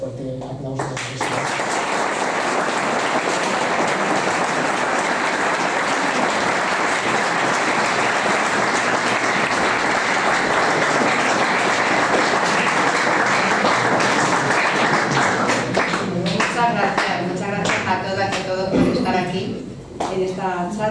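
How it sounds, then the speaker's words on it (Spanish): Lecture audience at a history conference breaks into loud, sustained applause that fills the room for about twenty seconds, thinning out into scattered claps near the end. "quiero que demos un fuerte aplauso a eso"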